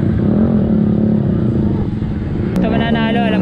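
A stock Yamaha Aerox motor scooter engine drones steadily and then revs higher near the end at a racing circuit, with loud crowd chatter and shouting over it throughout.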